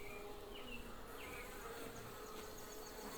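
Steady, dense buzzing of many honeybees close by at an open Long Langstroth hive during an inspection, a continuous hum with no breaks and no voices.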